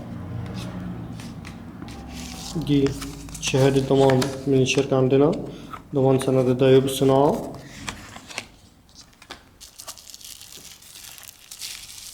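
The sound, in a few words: opening a phone box and handling packaging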